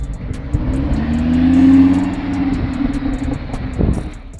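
A Lamborghini Huracan's naturally aspirated 5.2-liter V10 engine rumbles and revs up to a rising roar, then eases back, with a faint ticking in the background.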